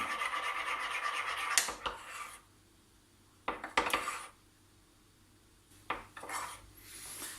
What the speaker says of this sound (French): vous venez mélanger également le chocolat noir avec l'huile